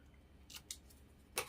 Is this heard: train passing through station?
no